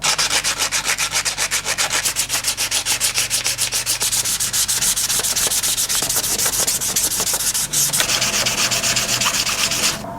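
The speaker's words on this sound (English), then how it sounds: "that's what it looks like after using the lowest grit sandpaper. So I'm just gonna work my way up." Rapid rhythmic rubbing of sandpaper over a ball of crumpled aluminum foil, a steady scratchy back-and-forth that runs continuously and close, loud with no voices.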